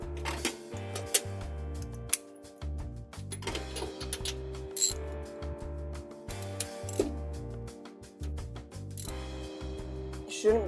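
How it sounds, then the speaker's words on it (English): Ratchet wrench clicking on the spark plugs of a 1967 VW Type 3 Squareback engine, close and fairly loud, with rapid ticking bursts and short pauses between strokes. "now I'm going to remove spark plugs for cylinder 1 and 2 first"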